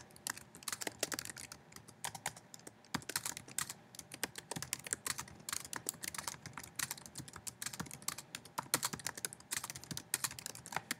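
Typing on a computer keyboard in a quiet room: a steady, fast stream of soft key clicks and taps, continuous throughout with small pauses, fairly faint and close.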